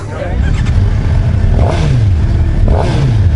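A 2015 Suzuki GSX-R750 sport bike engine revs loudly at close range, pitch rising and falling through two throttle blips, with a rider's voice mixed in.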